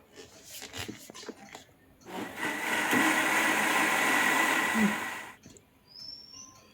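A kitchen mixer whirs steadily for about three seconds, blending curd into ragi dough, with a loud sustained motor drone that starts abruptly and cuts off, framed by faint clatter before and after.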